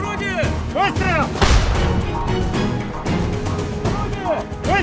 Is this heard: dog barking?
no